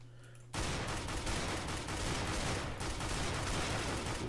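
Shotgun fire erupts in the game CS:GO after a brief lull, a dense loud barrage of blasts and gunfire that continues through to the end.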